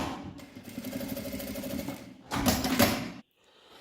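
Sewing machine stitching a seam on a compact fabric wallet's card pocket, a steady rapid mechanical run that speeds up louder near the end, then stops abruptly.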